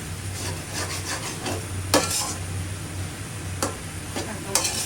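Potatoes sautéing in a pan for a potato dish with bottle gourd and radish greens, a steady soft sizzle with stirring scrapes and a few sharp clicks of a utensil against the pan, close by and with no talk.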